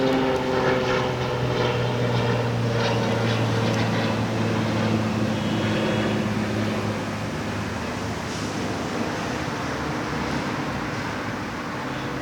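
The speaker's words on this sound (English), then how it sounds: "There's a plane flying above." A propeller airplane passes overhead outdoors, a steady droning engine hum with a low throbbing tone that holds loud and even throughout, slowly easing off toward the end, with no voices.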